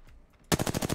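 Quick automatic burst of gunshots in Apex Legends, starting abruptly after near silence and rattling off several evenly spaced rounds, close and fairly loud.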